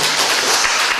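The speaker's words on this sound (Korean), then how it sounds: "우리 다시 한번 박수 한번 하면 좋겠습니다" Church congregation applauding, a dense, loud wash of clapping that fills the short moment without gaps.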